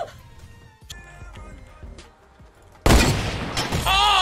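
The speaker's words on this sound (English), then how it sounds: "Headshot, hunting rifle." A hunting rifle gunshot in the Fortnite video game bursts out loud and sudden partway through, followed by chaotic noisy game sounds, after a stretch of quieter scattered game effects.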